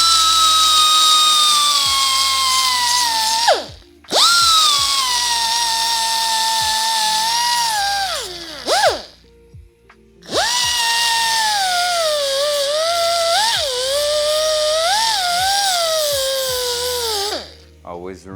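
Electric power tool grinding and cleaning metal edges to prepare them for welding: a loud, close, high whine that rises and falls with load, broken by three short pauses where the tool stops and restarts.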